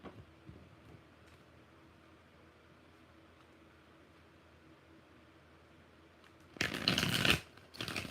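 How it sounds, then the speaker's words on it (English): A tarot deck is shuffled near the end in one quick, crisp burst of riffling card noise lasting under a second, following a long stretch of quiet room hum. "Four shuffles."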